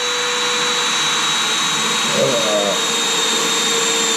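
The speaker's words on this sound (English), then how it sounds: "Everybody loves drilling up." A loud, steady high-pitched motor whine runs the whole time, a power drill spinning continuously while installing a rear subframe on a BMW E36, with a brief change in pitch midway.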